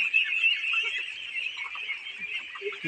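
About 1,500 25-day-old ducklings on a duck farm peep and chirp in a continuous, high-pitched chorus, fairly soft and steady throughout.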